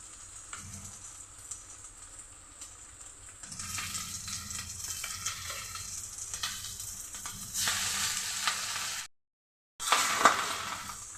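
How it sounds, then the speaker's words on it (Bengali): Fried rice sizzles in a hot pan, starting quieter then growing louder as it is stirred and tossed, with scraping and rattling, a short silent gap near the end. "এখন আমি ফ্রাইড রাইসটা দিয়ে দিচ্ছি।"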